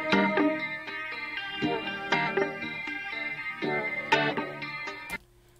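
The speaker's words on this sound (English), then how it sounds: "and then I got a loop for a guitar," A looped guitar riff in a beat built in FL Studio 20 with stock plugins, plucked melodic notes repeating in a steady pattern before cutting off abruptly near the end.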